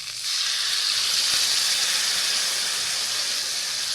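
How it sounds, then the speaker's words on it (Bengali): Hot water poured into a pan of fish curry cooked with banana flower, giving a loud, steady hiss of steam and rushing water that starts suddenly and holds evenly, close by and alone. "ভালো করে কষানো হয়ে গেলে এবার এতে গরম জল দিয়ে দিব।"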